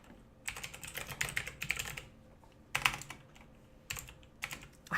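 Someone types on a computer keyboard in irregular bursts of close, crisp key clicks separated by short pauses, with no talking.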